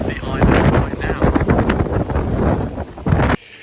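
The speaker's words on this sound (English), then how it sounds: "it was really windy there" Strong wind batters the microphone on the island of Mallorca as a roaring, buffeting rush that keeps up loud and steady before cutting off abruptly near the end.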